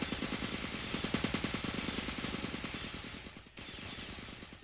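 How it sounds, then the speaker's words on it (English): Turrets from the Minecraft Voltz mod fire at creepers in a rapid, steady stream of machine-gun-like bursts that stay loud and continuous, with a brief dip before the shooting resumes. "the turrets successfully take out the creepers without any hassle"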